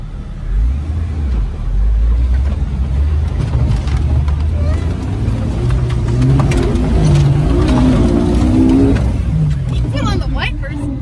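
An Outback car engine revs and pulls for a running start, a steady loud drone rising and falling in pitch under continuous talk from the people inside.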